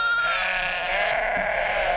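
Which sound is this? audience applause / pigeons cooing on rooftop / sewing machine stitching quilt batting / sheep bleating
sheep bleating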